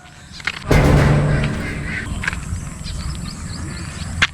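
Ducks quack and honk loudly at a duck farm in Carmen, one burst close by and then a steady chorus of nearby calls with occasional sharp squawks, no talking over them.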